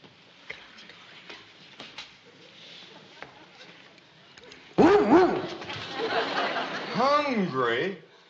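A dog in a 1962 classic TV sitcom scene whimpers and barks close up. A run of high, rising whines and yelps follows a quiet stretch with a ticking clock, and voices speak nearby.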